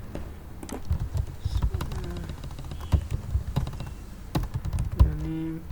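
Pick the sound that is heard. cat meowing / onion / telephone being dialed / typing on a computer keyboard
typing on a computer keyboard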